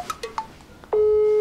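A phone call being placed: a few soft dialing beeps, then a steady, loud ringback tone that holds unbroken from about the one-second mark to the end, with no voices.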